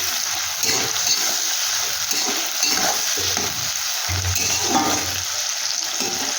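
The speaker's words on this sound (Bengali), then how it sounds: "একটু ভাজা ভাজা করে নিচ্ছি।" Chopped onion with salt fries in a pan for chicken kosha, giving a continuous close sizzle. A spatula scrapes and stirs through it, and low knocks come now and then.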